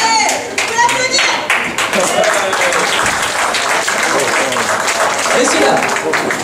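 An audience at a community theatre show by a French amateur company claps and applauds steadily and fairly close for several seconds, with voices mixed in beneath.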